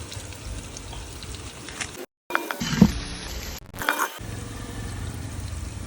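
Bay leaf and whole spices fry in a pan over a wood-fired stove for an Agri-style dal mundi. A close, steady sizzle and crackle is broken by two brief gaps and a few louder pops.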